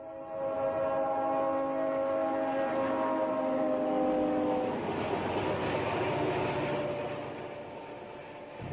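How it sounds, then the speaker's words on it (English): A train blasting its horn as it rushes through a railroad crossing, loud and close, with sustained horn tones giving way to the rumbling roar of the passing cars that slowly fades. "The train misses them by just 10 seconds."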